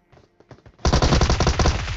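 Automatic gunfire in PUBG Mobile on the Erangel map: a few scattered shots, then a sudden loud, sustained rapid burst of rounds that rattles on without pause to the end.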